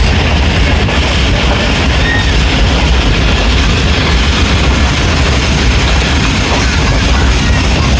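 The Rehman Baba Express passenger train roars steadily and loudly from inside the moving train, a dense rumble of wheels and carriages with no breaks and no voices.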